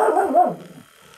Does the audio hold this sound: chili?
no